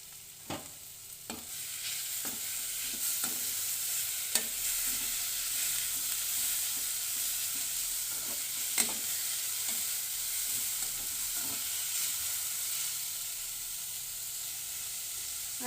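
Capsicum and softened onions sizzle steadily in a hot pan for a noodle dish, with a constant hiss broken by regular soft scrapes and clacks of a stirring spoon.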